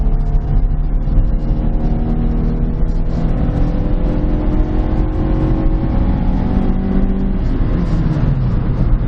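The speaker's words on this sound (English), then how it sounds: "let's punch it going up this hill. Alright, I have it pinned." A 2007 PT Cruiser Touring engine pulls hard at full throttle up a hill, a steady loud droning roar with rising harmonic tones from the cabin, continuous for the whole stretch with no talking.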